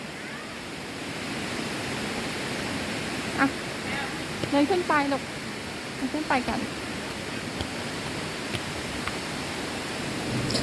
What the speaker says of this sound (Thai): ที่เห็นนี่คือน้ำตกชั้นที่หนึ่งนะคะ